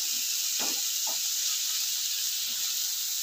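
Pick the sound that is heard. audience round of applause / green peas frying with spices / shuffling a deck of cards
green peas frying with spices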